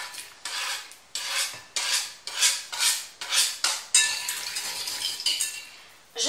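A spoon scrapes and clinks around a bowl while a sesame oil sauce is stirred, a steady rhythm of rasping strokes repeating about once a second, close and fairly loud.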